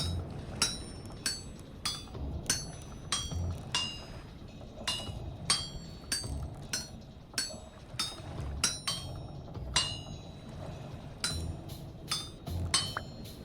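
Repeated metallic clinks of a hammer striking steel on an anvil while smithing a knife in Vintage Story, a steady run of sharp ringing blows at roughly half-second intervals, close and alone.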